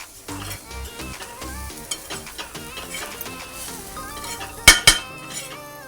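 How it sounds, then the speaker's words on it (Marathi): Dried fish, green chilli and salt, coarsely ground and stir-fried with onions in a pan, sizzle steadily as a utensil scrapes and stirs, with a couple of sharp metallic clinks near the end. "सुकट हिरवी मिरची, मीठ सर्व मी जरा थोडं मिक्सरला ओबडधोबड केलं आणि हे कांद्या टाकून परतलं."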